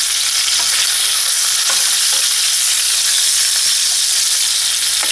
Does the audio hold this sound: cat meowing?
no